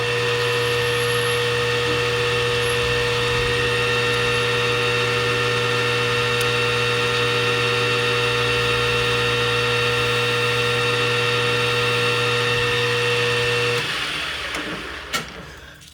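A lathe cutting tool trims the rim of a trumpet mouthpiece, making a steady, loud machine whir with sustained tonal hum that runs unbroken before stopping near the end, followed by brief clatter.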